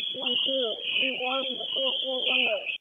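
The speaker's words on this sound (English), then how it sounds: "your pass device is loudly going off" Through a digital fire radio, a firefighter's PASS alarm blares as a loud continuous high tone, with garbled, vocoded speech pulsing underneath it throughout.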